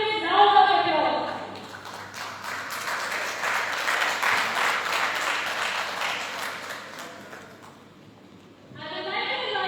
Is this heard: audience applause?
yes